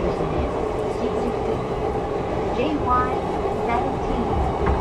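A JR train runs toward Shinjuku station with a steady rumble and rail noise, heard from inside the car, while an onboard announcement plays over it.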